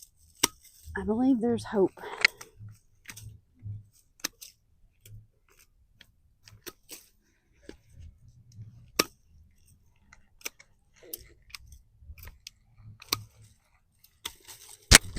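Pruning cuts through the still-green limbs of a Kaleidoscope Abelia shrub make sharp, isolated snips scattered across a quiet outdoor scene, with a short stretch of talking near the start.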